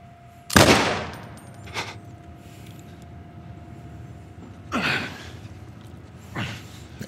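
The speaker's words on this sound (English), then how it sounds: "That gunfire scared me." Several sharp gunshots in The Last of Us Part 1 ring out, separated by pauses, each a loud crack with a trailing echo over quiet background ambience.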